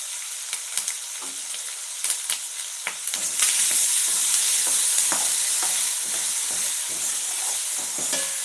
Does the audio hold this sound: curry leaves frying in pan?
yes